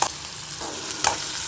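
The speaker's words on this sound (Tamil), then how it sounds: "இப்போ வெங்காயம் நல்லா வதங்கிட்டு இருக்குது." Sliced onions sauté in a hot pan for a soya gravy, producing a steady, close sizzle with a few bursts of stirring.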